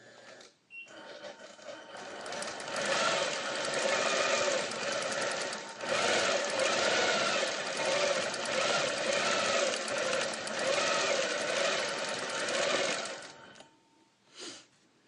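A sewing machine runs steadily while quilting a snowflake design, a loud, continuous, close-up mechanical whir with rapid stitching clatter for about thirteen seconds, briefly pausing near the six-second mark before stopping.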